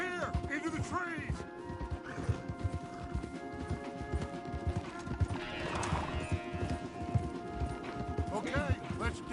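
Horses in Red Dead Redemption 2 clip-clop steadily along a wooded trail, with a whinny or two breaking through the hoofbeats, moderately close amid a busy outdoor game backdrop.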